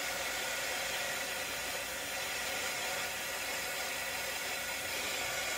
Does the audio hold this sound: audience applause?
no